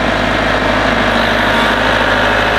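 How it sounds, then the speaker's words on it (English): Small tractor engine running steadily under load while lifting a 1,000 pound weight, a loud continuous low diesel drone with a fixed hum and no pauses, close to the listener. "we're gonna see what this little tractor can do"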